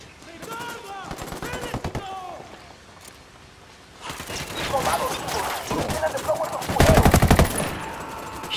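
Gunfire in the video game Ghost Recon: rapid bursts of automatic fire, heavier and denser in the second half, mixed with game sound effects and some talk.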